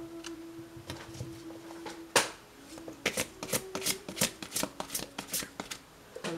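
Tarot cards shuffled, handled and laid down on a table during a reading: a quick flurry of card sounds, then a run of crisp, close flicks and taps as cards are set down one after another in a loose rhythm, with no talking.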